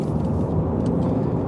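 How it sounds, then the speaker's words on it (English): Low rumbling engine and road noise inside a moving car, steady and continuous with no talk. "I am actually driving, so I've got to be careful whilst I'm driving."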